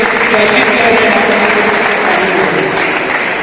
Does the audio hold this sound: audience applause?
yes